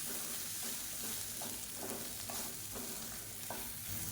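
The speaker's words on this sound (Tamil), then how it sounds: "சேர்த்துட்டு எல்லாத்தையும் நல்லா ஒரு பரட்டி விட்டுக்கலாம்." Tomato, grated coconut and roasted sesame being stirred in a pan, a steady sizzle with soft rhythmic scraping strokes repeating about every half second, close and without speech.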